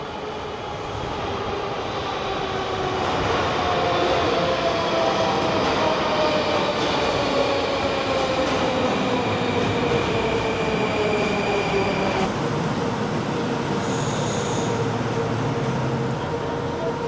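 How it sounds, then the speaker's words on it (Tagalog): A Moscow metro train pulls into the station, a loud sustained rumble building over the first seconds with rising and falling wheel and motor whine, steady screeching tones, and faint brake squeal near the end. "Andiyan yung tren."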